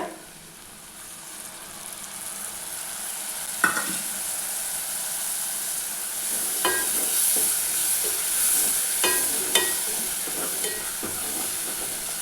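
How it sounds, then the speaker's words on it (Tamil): Masala sizzles in hot oil in a pan for a capsicum side dish, a steady fizzing hiss with a few sharp spoon-against-pan clinks as it is stirred, no talking. "இந்த மசாலாவை சேர்த்துட்டு ஒரு 2 நிமிஷம் அந்த எண்ணெய் பிரிஞ்சு வர்ற அளவுக்கு நம்ம வதக்கினா போதும்"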